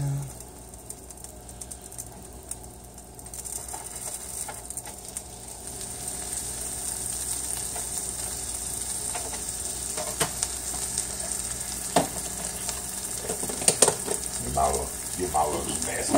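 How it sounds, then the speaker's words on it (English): A sandwich sizzles and crackles steadily in a frying pan, a broad, bright hiss with scattered pops and occasional clinks, heard close but fairly quiet throughout, with no talking. "I know y'all heard that sizzle."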